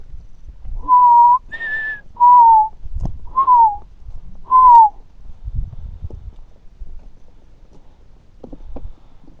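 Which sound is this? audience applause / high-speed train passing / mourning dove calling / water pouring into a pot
mourning dove calling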